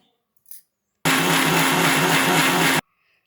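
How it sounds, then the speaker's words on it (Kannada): After a brief clatter, a mixer grinder whirs loudly for nearly two seconds at a steady pitch blending mango leaf chutney, then cuts off abruptly into quiet. "ಇಷ್ಟು ಹಾಕಿ ಈಗ ಇದನ್ನು ಮಿಕ್ಸಿ ಮಾಡ್ಕೊಳ್ಳೋಣ"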